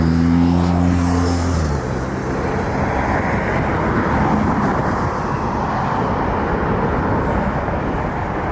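An Aeromexico airliner passes, a loud sustained broadband roar with a tonal engine whine fading early on, the rumble holding steady then slowly easing, with no speech.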